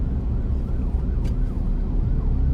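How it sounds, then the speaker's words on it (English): A police car siren wails at a distance, its faint rising and falling tone sitting over a heavy low rumble of traffic and road noise. No one speaks. "I'm trying to see where this cop car come from. I hear it come from somewhere."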